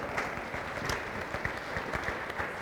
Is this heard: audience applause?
yes